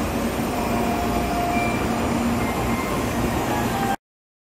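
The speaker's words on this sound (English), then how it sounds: "Oh, my train's leaving." Shinkansen bullet train departing Kyoto Station, a loud steady rumble and rushing roar with faint high whine tones, continuous for about four seconds before cutting off abruptly.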